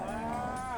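A single cow moos with a short, clear tonal call at a nighttime cattle and buffalo market in Yasothon, Thailand, sounding close and fairly loud.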